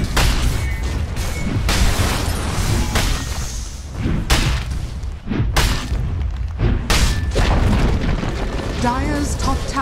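A tower in Dota 2 collapses in a series of loud, booming crashes and thuds that tumble over one another for several seconds, with bursts of game noise layered close around them.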